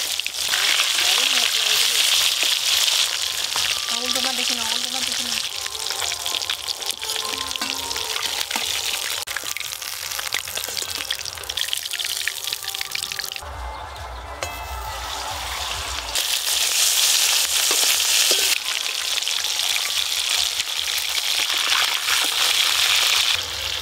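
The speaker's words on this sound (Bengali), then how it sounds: "পেটিটা যা ভাজা হচ্ছে না একবারে, ভাজা তো ভালো হবেই।" A piece of fish belly fries in hot oil, a continuous loud sizzling hiss with a louder bubbling surge near the end, while people talk over it.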